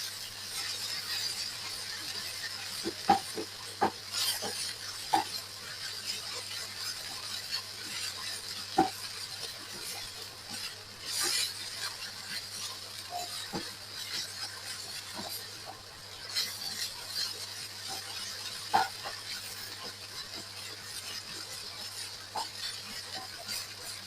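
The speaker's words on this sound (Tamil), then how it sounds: "இனி நாங்கள் நல்லா கிளறி விட்டுக் கொள்ளுவோம்." Banana flower fry stirred in a pan, a steady series of light scrapes and clinks of a spoon against metal, close and quiet over a constant background hum.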